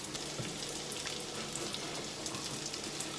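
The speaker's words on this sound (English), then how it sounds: "so we will be adding the onions here. I'm going to use the white of the spring onion here." White parts of spring onion hiss and sizzle in hot oil in a pan with ginger, cooking for restaurant-style chili chicken; a steady, close, crackling fry with no talking.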